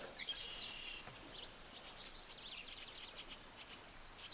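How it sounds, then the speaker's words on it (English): Faint birdsong drifts from a distance, thin chirps and short whistled phrases over a soft, steady outdoor hum. "The birds are singing."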